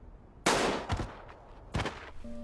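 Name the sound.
gunshot sound effect in Squid Game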